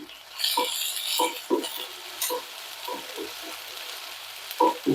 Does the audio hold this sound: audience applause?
no